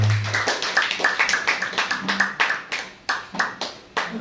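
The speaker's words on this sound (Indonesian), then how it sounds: "Tepuk tangan dong buat Tuhan kita." A small group at a church worship service clapping in a quick, steady rhythm, the claps spaced evenly and fairly close, with a faint voice early on.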